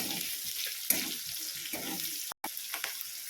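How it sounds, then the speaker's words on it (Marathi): Finely chopped onion frying in a pan, a quiet steady sizzle broken by occasional stirring scrapes and one brief clack; no talk. "बारीक चिरलेला कांदाही टाकूया आपण। हलवून घेऊया"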